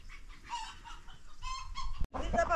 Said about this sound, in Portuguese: Vamos tratar das galinhas, dos patos, dos galos.